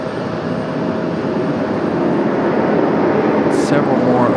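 Southwest Airlines jet arriving at Raleigh-Durham airport with a slight tailwind, a steady loud engine roar building gently, with a brief high chirp near the end and someone speaking.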